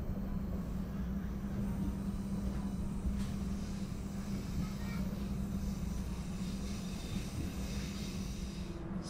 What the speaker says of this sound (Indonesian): Kereta api Sancaka tiba di stasiun Solo Balapan.